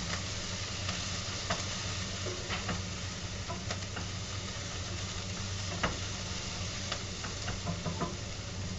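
Onions, sweet potato and garlic stir-frying in olive oil in a pan, a steady bright sizzle with scattered light ticks of stirring, fairly faint and unbroken by talk.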